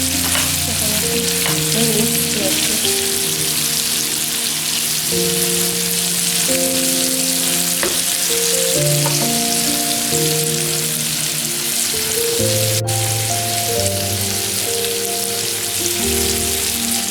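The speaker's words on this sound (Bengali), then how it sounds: "মাছগুলো মোটামুটি ভাজা হয়ে গেছে" Fish sizzles and crackles steadily in hot oil, a dense, continuous frying hiss with no talking.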